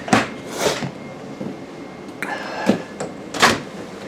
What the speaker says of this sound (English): Refrigerator. You got 2 drawers and a door.